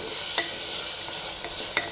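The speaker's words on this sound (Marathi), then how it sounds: "फोडणीमध्ये टाकलेला आहे कांदा टोमॅटो कोथिंबीर अद्रक लसूण जिरे मोहरी" Onion, tomato, coriander, ginger, garlic, cumin and mustard seeds fry in a clay pot with a steady broadband sizzle, broken by two sharper spits or clinks near the middle and end.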